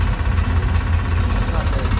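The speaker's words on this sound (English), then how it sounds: "It runs. Sounds like about ready to run out of gas. Hear the fuel pump?" A 1982 Chevy C10 short-bed pickup engine idles roughly, close and steady with a low rumble and slight uneven knock, as if nearly out of gas, its electric fuel pump whirring faintly underneath.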